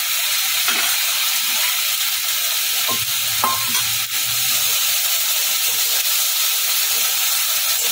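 Schezwan jackfruit frying in a hot pan sizzles steadily after a splash of water goes in, with a dense hiss and a few faint stirring knocks throughout, close and continuous with no voices.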